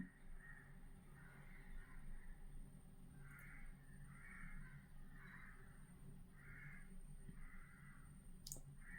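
Repeated cawing of crows in the distance, a regular series of calls over a steady low background hum.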